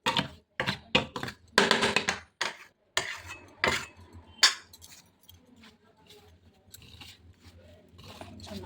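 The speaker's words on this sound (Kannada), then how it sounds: "ಒಂದು ಸ್ಪೂನ್ ಸಹಾಯದಿಂದ ಚೆನ್ನಾಗಿ ಮಿಕ್ಸ್ ಮಾಡಿಕೊಳ್ಳಿ" Chutney being mixed with a small spoon in a bowl, clinking and scraping in irregular bursts, loud at first and then softer stirring scrapes, close up with no voices.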